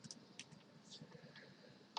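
Typing on a computer keyboard while searching a homeopathy materia medica program, a few soft scattered key clicks close by and fairly faint against quiet room noise.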